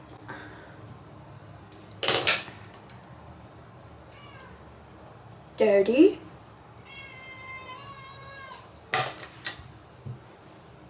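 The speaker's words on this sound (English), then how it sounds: "I got a little teenager cat." A young adolescent cat meows a few times indoors, short harmonic cries standing out between louder bursts of speech and close handling noises.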